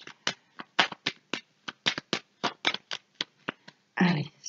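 Deck of tarot or oracle cards being shuffled by hand for a reading, a quick series of crisp close flicks and slaps ending in a louder riffle, with no talking.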